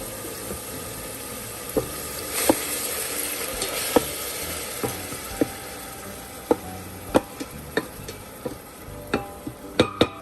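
Onion with ginger-garlic paste sautéing in an Instant Pot, a steady low sizzle under repeated sharp clicks and taps of a spoon stirring against the metal pot, growing more frequent toward the end.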